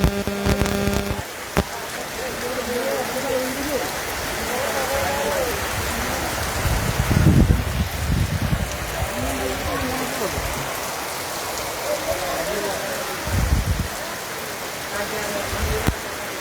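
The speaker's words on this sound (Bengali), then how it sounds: "মাঝে মধ্যে ধমকা হাওয়া বৃষ্টির তীব্রতা বাড়ছে" Heavy rain pours steadily during Cyclone Remal on Sandwip island, a continuous wash of falling water with low gusty rumbles swelling now and then, under a voice talking.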